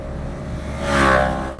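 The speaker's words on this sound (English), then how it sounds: "A motorcycle just overtook us." A motorcycle overtakes a Renault Twingo, swelling briefly to a peak and fading over steady road and engine hum inside the small car, with no talking.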